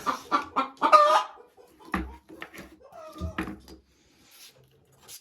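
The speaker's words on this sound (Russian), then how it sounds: "Курочка выносится." Hens clucking close by, a run of short choppy clucks in quick succession followed by a few scattered softer calls and near silence.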